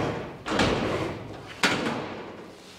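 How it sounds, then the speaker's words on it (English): The door of a 1955 Chevy body, pulled off its frame, swings open and then shuts, giving two solid metal thuds spaced about a second apart, close and loud, with no talking. "this door should open and close."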